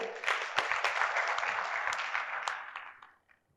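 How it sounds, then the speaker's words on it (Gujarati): An audience at a Gujarati poetry event in Godhra breaks into a burst of clapping, dense and fairly near, then thins out and fades to scattered claps within about three seconds. "જોરદાર તાળીઓ"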